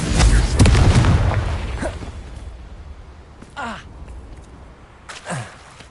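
A Confringo fire spell from Hogwarts Legacy bursts with a loud, deep boom that swells and slowly fades, followed by a couple of quieter whooshing magical bursts later on.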